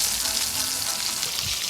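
Flat jack fish frying in a pan for a Jamaican breakfast, a steady soft sizzle with no voices.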